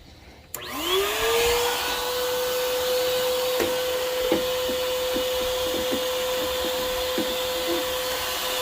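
A household vacuum cleaner, used outdoors on a car interior, switches on with a rising whine and then runs steadily at a constant pitch, with occasional light knocks and clatters.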